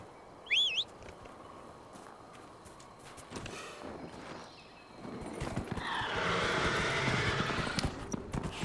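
A Dracolisk mount in Dragon Age Inquisition gives a short whinny, then its hoofbeats run in a steady rhythm that grows louder over faint ambient game sound.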